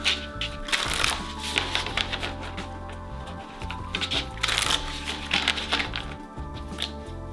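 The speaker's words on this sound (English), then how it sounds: "They shuffle real smooth." A coated tarot deck is shuffled close by, crisp riffling card flutters in repeated bursts with soft slides between them.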